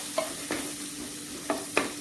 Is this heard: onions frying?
yes